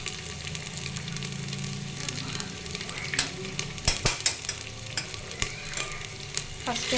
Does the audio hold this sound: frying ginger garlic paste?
yes